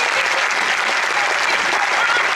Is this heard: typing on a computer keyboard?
no